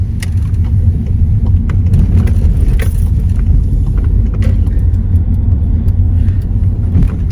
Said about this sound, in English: Even like the indicator sound.